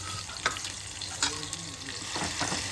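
Garlic chutney going into tomatoes frying in groundnut oil gives a soft, steady sizzle with a few sharp scraping stirs, fairly faint and close, with no talking.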